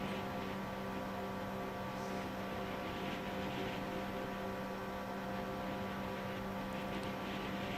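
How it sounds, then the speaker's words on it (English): Jet ski engine in the Far Cry 5 video game, a steady, loud motor drone holding an even pitch throughout with no pauses and no talk. "I love the jet ski, it's a great thing."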